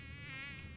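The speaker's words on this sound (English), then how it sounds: "we're in the swamp, and there's some mosquitoes" Mosquitoes whine in a swamp within a video game, a thin, steady, high-pitched buzz that wavers slightly in tone and holds without pause through a short moment, close and alone.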